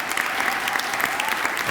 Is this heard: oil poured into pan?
no